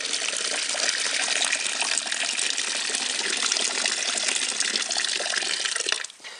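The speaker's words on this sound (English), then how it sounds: "That's the last of our water poured into the fermenter." Boiling water from a kettle pours steadily into a plastic home-brew fermenter, a loud continuous gushing splash for about six seconds that stops abruptly near the end.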